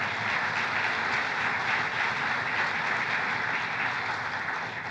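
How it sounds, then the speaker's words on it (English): Steady audience applause at a National Association of Manufacturers board gathering addressed by Vice President Mike Pence, a dense, even wash of clapping that holds for the whole stretch at moderate distance, with no talk. "that legacy of job creation is worth a round of applause"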